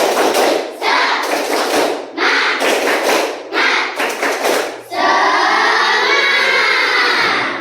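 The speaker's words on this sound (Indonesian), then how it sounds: "Kita tepuk semangat lebih dulu" A classroom group performs rhythmic spirit clapping in bursts of patterned claps and thumps separated by short pauses, close and fairly loud, before a sustained noisy crowd wash at the end.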